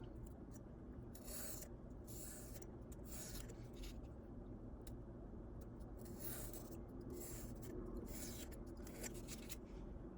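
Scissors cut 3/4 inch strips of material for a bathtub water level alarm, giving quiet, repeated close-up snips and rasps over a faint steady background hum.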